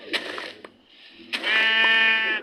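Sheep in the Minecraft video game bleat twice, a short call followed after a pause by a longer, loud, wavering bleat, alone without talk.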